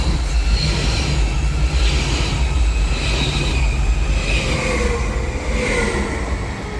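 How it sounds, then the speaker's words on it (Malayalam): A train rolls steadily past on the railway beside Rhine Falls in Switzerland, its wheels rumbling and clicking with occasional high squeals, loud and close throughout with no voices. "ട്രെയിനൊക്കെ പോകുന്ന വ്യൂ കണ്ടോ?"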